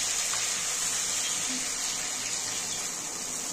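Water poured into a pan of spiced chickpea, taro and potato curry, a steady even rush of liquid heard close and continuous with no talk over it.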